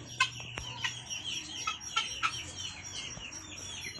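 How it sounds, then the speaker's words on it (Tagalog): Chickens cluck in short, scattered calls at close to middle distance, with a few sharper chirps over a steady low hum, and no one speaking. "Ito yung ibon natin."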